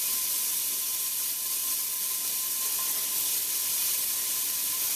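Onion dropped into two tablespoons of vegetable oil heated over medium-high in a pan, giving a steady, close, broadband hiss and sizzle that holds evenly throughout with no talking.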